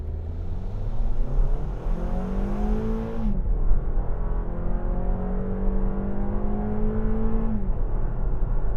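A 2022 Toyota RAV4 TRD Off-Road in sport mode accelerates hard from a standstill, its engine rising steadily in pitch through a gear change around three seconds and climbing again, loud and continuous with no talking.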